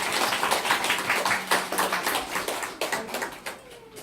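An audience at a school information session claps for a lecturer, with sharp, close hand claps in uneven bursts that fade toward the end.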